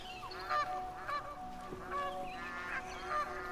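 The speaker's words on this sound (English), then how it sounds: "Hello, geese." Geese honk in Horizon Zero Dawn, several nasal calls arriving in irregular bursts over a soft ambient game backdrop, moderately close and fairly quiet, with no voices.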